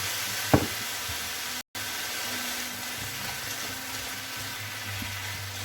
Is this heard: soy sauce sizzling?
yes